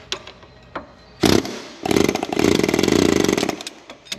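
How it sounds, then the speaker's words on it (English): Pneumatic air hammer working on a part of a John Deere 450G dozer, giving loud rapid rattling bursts: a short blast, a pause, then a sustained hammering run of about two seconds, close by. "Now put that air hammer on there."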